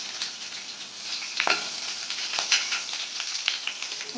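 Curry leaves and green chillies frying in a pan: a close, steady crackling sizzle with a few sharper pops scattered through, and no voices.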